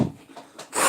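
A disposable sanding sponge rubbed over wood in short rasping strokes, close and fairly quiet, with a few separate scrubbing passes and a louder stroke at the end.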